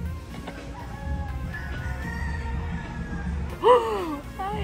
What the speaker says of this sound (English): Can anyone hear the roosters?